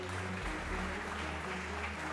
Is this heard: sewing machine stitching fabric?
no